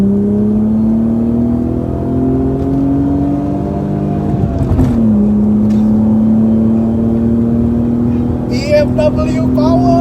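The naturally aspirated inline-six of a BMW E36 323 is held at high revs with a loud, steady buzzing wail. It dips briefly midway, then climbs back and sustains, with a voice faintly audible near the end.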